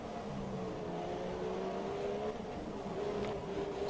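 A Formula 1 race car engine in the video game F1 2017 holds a steady, high buzzing drone on a straight, its pitch creeping gradually upward, moderately loud and uninterrupted.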